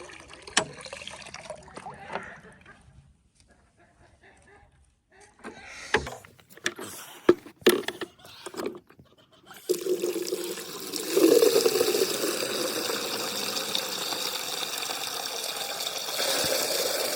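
Water from a hose or spigot pours into buckets for hound dogs, running as a steady loud rushing stream in the second half after scattered handling clatter and knocks, with some chickens nearby.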